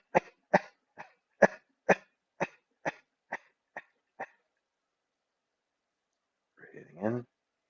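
A person coughs repeatedly during a deep breathing exercise, about ten sharp, close coughs in a steady run that gradually weaken, followed by a pause and a short breathy exhale.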